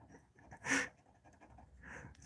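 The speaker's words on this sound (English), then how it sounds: "It's my neighbor's dog." A neighbor's dog pants nearby, with one loud breathy burst of panting followed by a softer one, set against quiet room tone.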